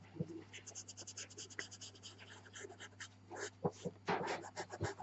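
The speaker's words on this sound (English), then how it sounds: "And that was my dog" A dog pants faintly nearby in a quiet room, with soft scratching sounds from pastel drawing on black velour paper and a steady low hum underneath.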